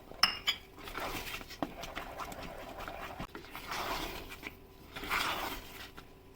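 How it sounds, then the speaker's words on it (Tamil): A metal lid is set down over a pan of orange kesari with a few sharp clinks at the start, followed by soft cookware clatter and rustling close by. "ஆட் பண்ணிவிட்டு இப்போ நான் லிட் போட்டு மூட போகிறேன்."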